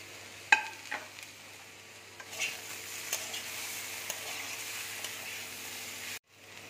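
Spices including chilli powder fry in a pan with mango pieces, a soft steady sizzle punctuated by several sharp stirring clicks and scrapes, cutting out briefly near the end.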